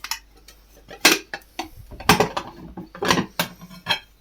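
Dishes and cutlery clink and clatter in a home kitchen during baking, a series of sharp close knocks and rattles at irregular intervals, with no talking.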